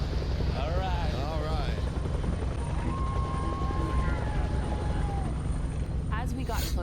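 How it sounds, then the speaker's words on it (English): A helicopter flies overhead near a cruise ship, its rotor producing a loud, constant low throb and drone that fills the whole stretch, with faint voices and other noises mixed in. "Helicopter"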